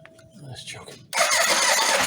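A 1985 Yamaha Venture Royale motorcycle engine cranks on choke in a garage, a sudden loud broadband roar cutting in about halfway after quieter noises and a voice.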